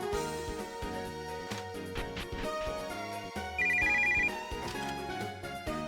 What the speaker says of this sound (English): the phone is for you